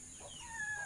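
Chickens on a farm cluck faintly and briefly in the distance, a short burst of soft bird calls.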